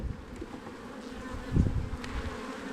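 A steady, close insect buzz of many honey bees humming together in a hive, rising briefly in the middle with no voices present.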